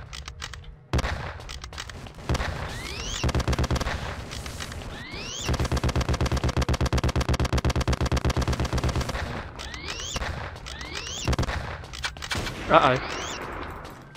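Gunfire from the 2008 steampunk FPS Creator game The Principality of Mars: loud, rapid bursts of shots, with a long sustained volley in the middle. A voice briefly speaks over the shooting.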